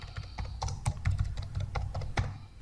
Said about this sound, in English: I'll type in my library card number.